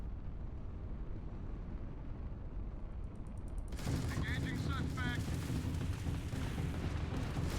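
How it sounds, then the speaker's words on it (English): A spaceship turret in Starfield ship combat fires a dense, continuous barrage of loud booming shots, starting suddenly partway in after a steady rumbling engine hum, with no voices. "Turret fires a lot slower."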